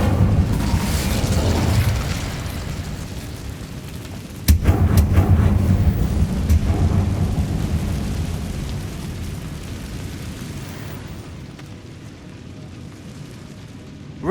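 An Incendio fire spell cast in the Hogwarts Legacy video game lands as a sudden sharp burst, then a loud rumbling whoosh of flame that fades slowly over several seconds.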